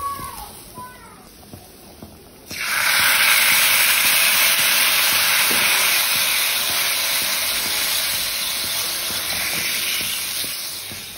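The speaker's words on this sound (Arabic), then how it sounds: "أول ما يحمى الزيت عندي بضيف الثوم المبشور وبضيف عليه النعناع الناشف حتى تطلع الريحة" Grated garlic and dried mint hit hot oil, a sharp sizzle that bursts in loudly after a quiet start and holds as a steady, bright hiss close by.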